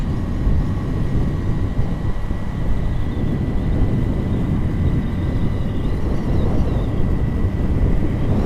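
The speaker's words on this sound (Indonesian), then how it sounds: "ada pesawat terbang guys." An airplane flies overhead during a night motorcycle ride, heard as a steady broadband roar mixed with wind rush and road noise that continues through the whole stretch.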